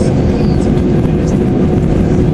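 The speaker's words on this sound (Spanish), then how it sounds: "van a meter los motores" Airliner engines at Montreal power up before takeoff. They make a loud, dense, unbroken roar that fills the whole stretch with no voices heard.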